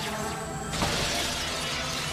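A drone crashes through a workroom in a film scene, a loud burst of shattering glass and smashing objects that holds steady and dense for about two seconds with no voices.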